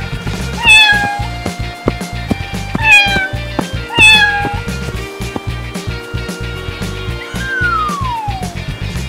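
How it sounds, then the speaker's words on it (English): A cat meows loudly three times in close succession, each call a clear rising-falling cry, followed by a softer drawn-out meow near the end over a rhythmic musical backing. "Cat."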